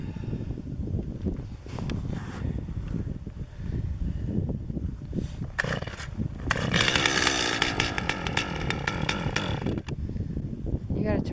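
A small gas-powered ice auger engine runs on a frozen lake in cold weather, a steady buzzing drone that revs up louder partway through, with wind noise and people talking over it.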